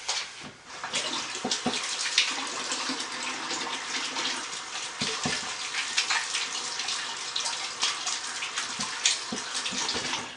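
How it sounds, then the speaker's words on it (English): Running tap water pours steadily over hands being washed at a sink, a continuous close, bright gush with small splashy variations throughout. "Wash my hands quickly."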